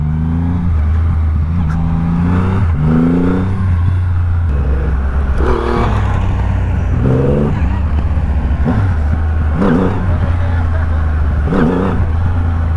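A Triumph Rocket 3 2500cc motorcycle accelerating, a loud steady engine drone with rising and falling rev sweeps throughout, recorded close, with wind rush over the top.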